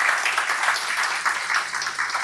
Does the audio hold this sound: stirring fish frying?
no